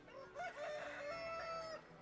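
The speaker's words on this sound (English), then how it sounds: "Those bloody chickens are making lots of noise" Chickens in Divinity Original Sin cluck and crow in a short, faint burst, a rooster-like call rising and holding over quiet game ambience.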